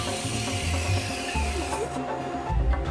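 A belt sander grinds against a wooden piece in a wood shop, giving a continuous rough, raspy rubbing with shifting pressure over a steady motor hum, close and moderately loud, with no talk.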